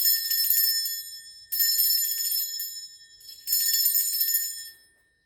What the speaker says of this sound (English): I'm going to be ringing this bell.